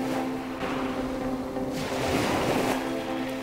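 Black Sea surf near Anapa washes in on a beach with a soft rushing swell, a wave building and breaking, over steady low rumble, with no voices.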